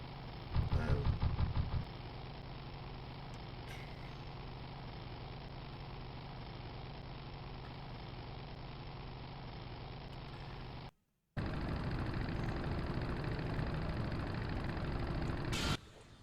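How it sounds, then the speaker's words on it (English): Motorcycle rumbling over a rough road in the video game Full Throttle Remastered, a steady low engine drone running throughout with a brief cut near the end before resuming, loud and continuous with no talk. "There's the sound of you driving over a rough road"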